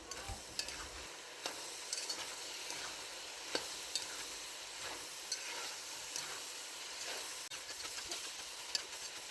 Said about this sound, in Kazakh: Бәрін араластырып 5 минуттай қуырамыз